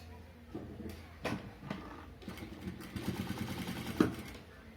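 A domestic sewing machine stitches a blouse neck in short bursts of mechanical whirring with brief pauses and a sharp click near the end, quiet and close.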